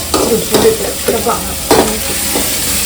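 Ingredients being stirred in a hot frying pan, a spoon pushing through a steady sizzle in several distinct scraping strokes, close and fairly loud.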